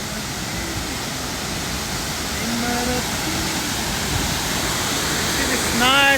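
A waterfall in Ohio running with a lot of water gives off a steady, broad rushing roar that swells slightly toward the end, with brief faint voices or whistles over it.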